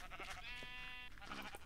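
Video game sheep bleating in a single drawn-out, wavering cry over steady background game sounds, close and clear.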